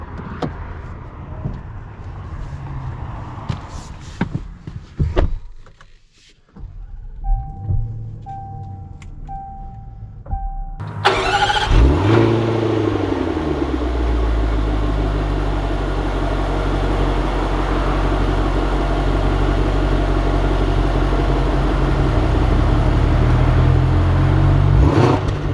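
A 2020 Land Rover Range Rover SV Autobiography being driven, heard from the cabin: a low steady engine and road drone that builds after a door-like thump and brief quiet, with a soft electronic chime in between.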